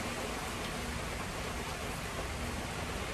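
Steady, even rain hisses continuously throughout, a dense wash of patter with no voices or breaks.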